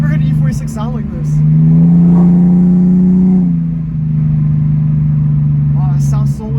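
A BMW E46 fitted with a catless Greddy Y-pipe single-exit blast pipe exhaust revs up close and loud, rising, holding and dropping back to a steady idle drone, with people talking briefly over it.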